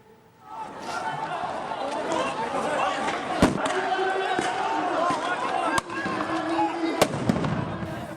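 Stun grenades detonating during an Israeli police raid on worshippers at prayer in the Al-Aqsa Mosque, heard as a few sharp bangs at scattered moments over dense crowd noise, shouting and chatter.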